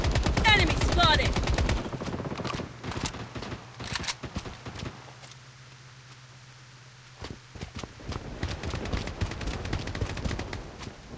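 Gunfire in the Project Bloodstrike shooter: loud rapid automatic bursts, then a lull with scattered single shots and a low hum, before dense firing resumes with footsteps mixed in.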